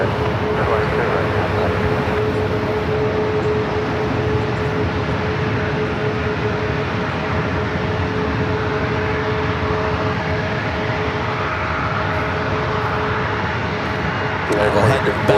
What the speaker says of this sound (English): Japan Airline Dreamliner coming in from Tokyo Narita, heading over there to the international terminal.